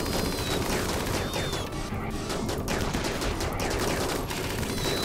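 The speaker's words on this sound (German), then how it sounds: "jetzt schießen sie sich gegenseitig ab" RimWorld characters fire on each other in a sustained rattling barrage of gunshots, with crackling bursts running steadily through the whole stretch at a moderate distance.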